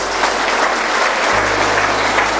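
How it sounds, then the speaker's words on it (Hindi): Schoolchildren clapping together in a school classroom, a loud, dense burst of applause that holds steady from start to finish. "ताली बजा दीजिए एक बार"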